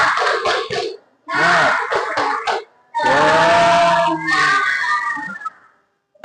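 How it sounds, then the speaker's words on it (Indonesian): A group does a rhythmic spirit clap, an icebreaker led by a teacher in a classroom lesson, standing up. Several close, loud bursts of patterned clapping with voices chanting along, separated by short pauses. "Kita coba berdiri ice breaking dengan tepuk semangat."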